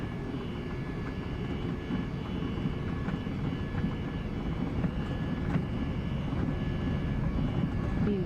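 A JetBlue Embraer 195 jet rolls for takeoff, heard from the cabin as a steady, heavy engine roar with rumbling and rattling throughout and no letup.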